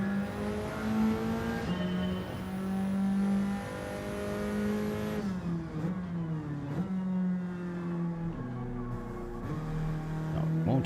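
A race car engine in the video game Gran Turismo 7, loud and steady, with held revs and several clear upshifts and pitch drops as the car brakes and accelerates through corners, with a brief tire squeal.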